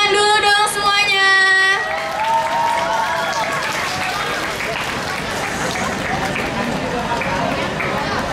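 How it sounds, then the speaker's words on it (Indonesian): Applause from the audience at a school Halal Bihalal and charity day rises after a brief sustained tone and continues as steady clapping with crowd murmur throughout. "Tepuk tangan dulu dong semuanya."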